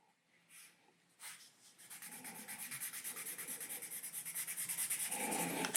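A pencil sketches a cartoon character on paper with steady, quick back-and-forth scratching strokes that build into a soft, rhythmic rasp. The sound is close and fairly quiet, with no voices.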